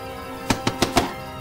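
Four sharp knocks on a door in quick succession, close and fairly loud, with no voices during the knocking.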